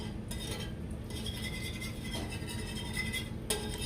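Someone whisks butter into a vegetable sauce in a pan, giving quiet, steady scraping and light metallic clinks of a whisk against the pan, faint and close with no talking.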